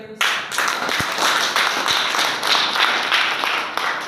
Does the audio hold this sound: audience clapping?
yes